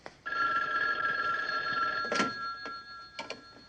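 Old telephone bell ringing in a long continuous trill, followed by a few shorter clicks and rattles as it stops, fairly close and alone.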